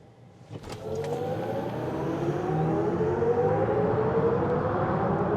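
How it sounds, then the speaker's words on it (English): A BMW iX electric SUV launched at full throttle in sport mode with traction control half off: a rising electric motor whine climbs steadily in pitch over tyre and road roar, growing louder through the run, with no talking. "Don't believe this has launch control, so I'm just going to kind of just floor it."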